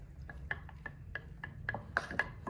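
A spoon stirs borax solution in a jar, giving soft scraping clinks against glass in an uneven rhythm over a low background hum, close and quiet.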